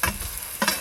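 Fried potatoes stirred into a spice mix in a pan, with a sizzle under two scraping strokes, one at the start and a louder one near the end.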